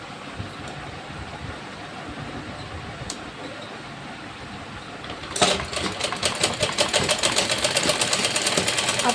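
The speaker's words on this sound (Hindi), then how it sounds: "आपको इलास्टिक खींचते जाना है, सिलाई लगाते जाना है।" A sewing machine stitches elastic into an Afghani salwar. It begins with a low hum, then breaks into a steady, fast, loud run of stitching that continues to the end.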